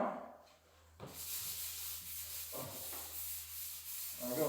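A sanding block rubs by hand across a drywall patch on a ceiling, making close, steady scraping strokes that run almost continuously with a brief pause at the start and no talking.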